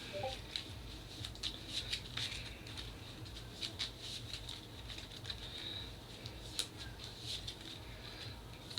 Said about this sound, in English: The top 2 cards I need to shuffle